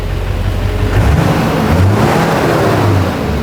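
A Duramax diesel truck engine idles and revs close by, a steady low rumble with a couple of rises in pitch, no voices over it.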